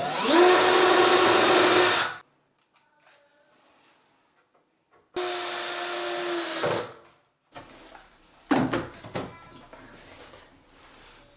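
A power drill drives 2.5-inch screws through pantry cabinets into wall studs, sounding in two loud sustained whirring bursts separated by quiet, followed by a few knocks and shorter rattling bursts.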